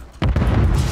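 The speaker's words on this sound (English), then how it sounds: "Stun grenade out." A stun grenade goes off in the Warzone video game as one sharp, loud bang followed by a brief rumbling tail, with no voices over it.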